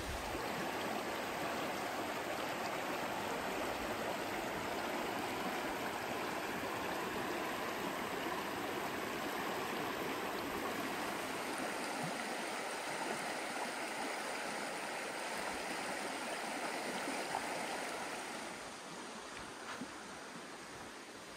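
The Skokomish River flowing along the Skokomish River Trail, a steady close rushing and gurgling wash of water that softens slightly toward the end, with no voices.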